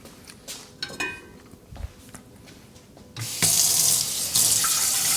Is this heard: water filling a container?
yes